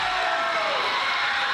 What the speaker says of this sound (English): And listen to the crowd of Asira Hayden.